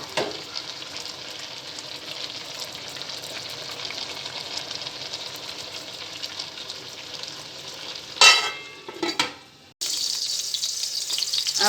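Continuous hot-ghee sizzle from a pan as tempering for sarson ka saag is prepared, steady and close, broken near the end by louder bursts of spattering frying.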